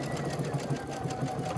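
Twin-needle sewing machine going back over earlier stitches to build a compound stitch, a close, continuous, evenly pulsing mechanical hum with no pauses.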